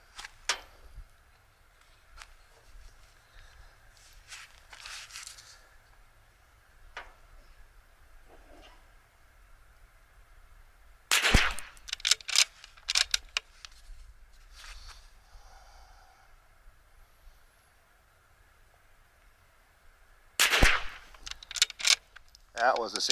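A Bergara B14R rifle fires at an outdoor range, with loud sharp shots at widely spaced intervals and quieter clicks, handling noises and brief talk in between.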